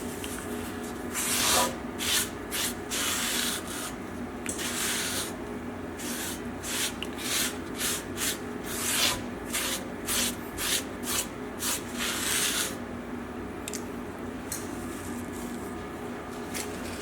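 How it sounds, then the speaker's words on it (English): Pan being scrubbed clean in a home kitchen after toasting garlic breadcrumbs, before making a fennel linguine sauce: steady rough rubbing and swishing strokes in uneven bursts, close and moderately loud, with no talk. "we're gonna clean out the pan"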